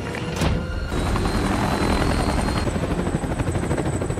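A helicopter's rotor drone and engine whine hold steady and loud throughout, close by, with no voices.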